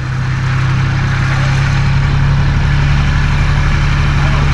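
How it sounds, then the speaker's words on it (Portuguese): A tractor engine runs steadily on a cattle farm with pasture, a continuous loud low rumble with a strong steady hum that holds for the whole stretch, with no voices. "Estão trazendo o trator."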